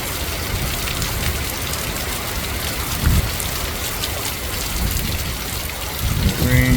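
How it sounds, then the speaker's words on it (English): Heavy wind-driven rain lashes down sideways during a storm in Georgia, a dense steady roar of drops with gusty surges throughout, near and loud. "Rain got some velocity, high velocity, sideways."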